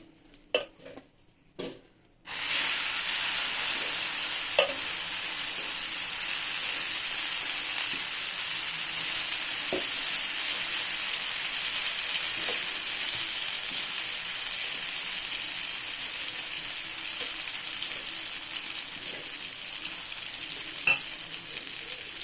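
Oil heating in a pan for a vegetable omelette gives a steady, even sizzle that starts abruptly after a couple of quiet clinks and runs on continuously, with occasional faint utensil taps and no voices.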